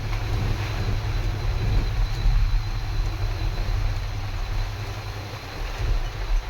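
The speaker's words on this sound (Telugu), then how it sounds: "ఎందుకంటే ఈ లారీ సౌండ్ వస్తుంటాయి" Lorry engine droning while driving through rain near Eturnagaram, a continuous loud low rumble mixed with road and rain noise, close by and steady, with no talking.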